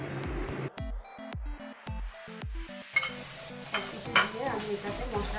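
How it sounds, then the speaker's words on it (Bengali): Turmeric, chili powder and ginger-cumin paste fry in a pan for a vegetarian khichuri, giving a close, steady sizzle with stirring and some intermittent clatter. "আমি এটাকে মশলাটাকে কষিয়ে নেব।"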